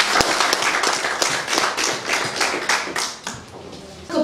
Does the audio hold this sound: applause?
yes